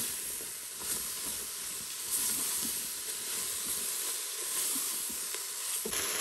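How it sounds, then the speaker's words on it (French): Mushrooms sweat in a Cookeo cooker with a faint, steady hiss and gentle sizzle, broken by occasional soft crackles. "je vais laisser quelques instants suer mes champignons avant de rajouter l'eau"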